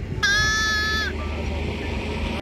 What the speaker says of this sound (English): the shepherd was so kind to give me his little lamb to take a few pictures